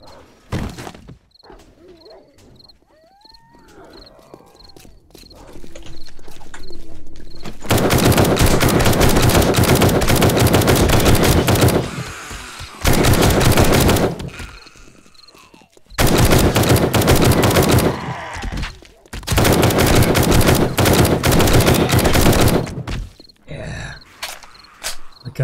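Gunfire in the survival game 7 Days to Die: long, loud sustained bursts of rapid automatic fire, separated by short pauses, with quieter ambient stretches and thuds at the start.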